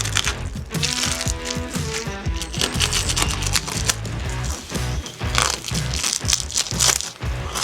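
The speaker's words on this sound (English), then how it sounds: "So I'm going to get all this plastic off" Plastic wrapping is pulled and torn off a juicy beef topside joint, giving loud, close, continuous crinkling and crunching with sharp rustles and snaps.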